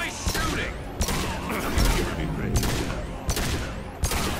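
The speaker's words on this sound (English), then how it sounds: "Now he's shooting us." Enemy gunfire in Mass Effect 2: sharp, repeated shots crack out at irregular intervals over a steady background hum of combat, while a player talks quietly underneath.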